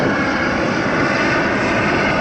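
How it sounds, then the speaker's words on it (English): Los Angeles Sheriff's Department helicopter passing overhead near the Venice Beach bike path, a loud, steady, broadband engine and rotor roar that fills the whole short stretch without a break. "LASD helicopter up there, that's Los Angeles Sheriff's Department airship"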